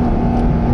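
A Porsche GT4 RS engine on a mountain pass, driven with a manual shift, gives a loud, close, steady high-rpm roar that holds for under a second with no talking.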